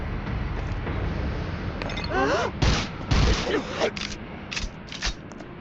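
Nail gun in the horror shooter Unloved firing and reloading, with sharp mechanical clacks and ratcheting bursts in uneven clusters over a steady game ambience, while a player talks.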